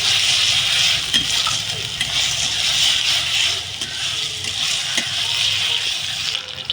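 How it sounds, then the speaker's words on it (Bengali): Onion, ginger-garlic paste and spices fry in a pan for mutton curry, producing a dense, loud, steady sizzle with faint stirring scrapes throughout and no talking. "একটু কাঁচা গন্ধটা বেরোনোর জন্য আমি একটুখানি মশলাটা একটু কষে নেব।"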